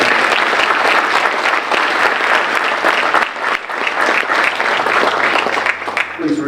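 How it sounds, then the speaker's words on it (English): Continuous, full audience applause at a high school senior awards ceremony honoring a group of award recipients, loud and even throughout with a busy patter of many hands. "Can I have a round of applause for our second group of honorary?"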